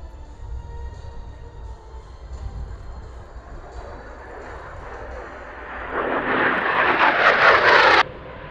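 A USMC AV-8B Harrier jump jet circles at a Cherry Point airshow, a steady distant jet roar that swells sharply and grows loud for a couple of seconds near the end before cutting back.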